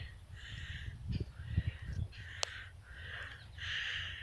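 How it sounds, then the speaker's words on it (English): A crow calls from a tree, giving a series of about five harsh, repeated caws at a moderate distance over a low outdoor rumble. "There's a bird in the tree."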